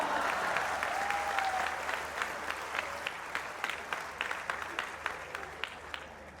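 Audience applause at a Hindi satirical comedy performance, a steady wash of many hands clapping that gradually thins toward the end, with sharper individual claps standing out.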